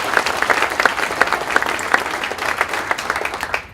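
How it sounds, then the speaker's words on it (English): A Rotary Club meeting audience gives a short round of applause, with dense, even clapping that holds steady for a few seconds and then thins slightly toward the end. "So, a round of applause."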